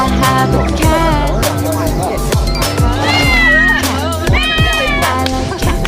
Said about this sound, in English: Cat, cat, I have a cat.